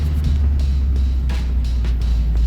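Bumper-to-bumper car traffic on a Saturday makes a continuous, loud, low road rumble nearby, with faint swishes of vehicles creeping past.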